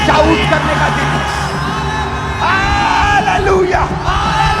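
A church congregation shouting together, a loud wash of many voices yelling and whooping at once, with swelling cries rising over the crowd noise throughout.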